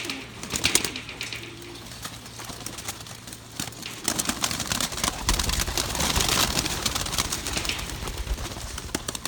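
Racing pigeons in a loft coo in low repeated bursts, fairly close, over a rustling, busy background with occasional wing flaps.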